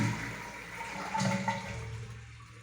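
A toilet cistern refilling after an overflow repair, a faint close trickle and gurgle of running water with a slight swell midway.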